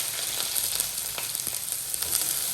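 Onion and garlic sizzle steadily in a hot pan for pickle, a dense continuous frying hiss with faint crackles, close and fairly loud, with no talking.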